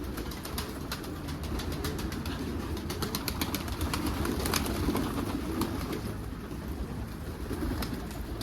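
Several pigeons coo in a low, continuous murmur, with a rapid soft ticking running through the background.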